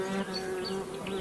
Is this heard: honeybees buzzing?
yes